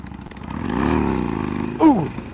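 A sport motorcycle's engine revs up in a rising whine, then the clutch is dumped for a wheelie, giving a sharp, brief burst of engine noise, close and fairly loud.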